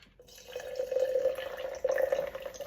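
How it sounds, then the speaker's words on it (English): Filtered water pours into a container sitting on a kitchen scale, a steady close trickle with a ringing tone that runs for a couple of seconds, with no speech. "we're gonna add 100 grams of filtered water"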